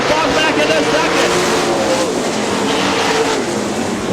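410 winged sprint cars racing on the Butler Battlegrounds dirt oval in Quincy, Michigan: a loud, continuous roar of several high-revving engines rising and falling as the field passes, with a race announcer talking over it.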